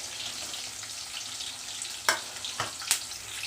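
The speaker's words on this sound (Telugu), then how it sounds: "ఉల్లిపాయ బాగా వేగేంత వరకు బాగా వేయించుకోవాలి." Onions frying in a pan with bay leaf, cloves and cinnamon, a close bright sizzle with a few sharp crackling pops near the end.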